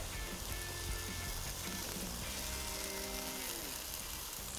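French toast topped with ham and grated cheese fries in a pan, giving a faint, steady crackling sizzle with no speech.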